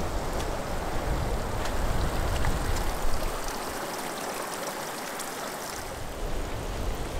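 Water drains off a broad rock ledge at low tide on the Queensland coast, falling like a small waterfall in a steady, close, rushing splash with no talk.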